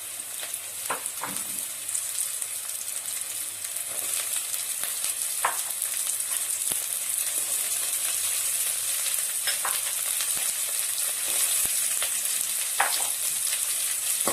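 Vegetables stir-frying in a pan for homemade chicken fried rice, a steady loud sizzle with occasional scraping stirs, no talking.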